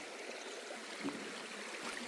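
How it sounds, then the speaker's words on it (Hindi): A river in full flow near an evening jungle after rain, a soft continuous rush of running water heard at a distance, fairly faint and steady with no voices. "नदी का पानी"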